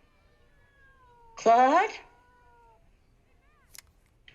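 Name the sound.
cat meowing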